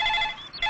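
Telephone bell ringing steadily in a quiet room, a continuous electronic trill that dips briefly before resuming, with no talking over it.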